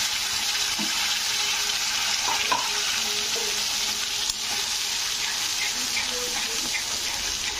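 Onion paste added to hot oil with a fried bay leaf, sizzling and frying steadily with occasional stirring clinks, close and continuous throughout.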